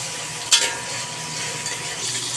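Finely chopped tomatoes are stirred in hot oil in a pan. A steady, close sizzle hiss runs throughout, broken early by one brief scrape of the stirring utensil.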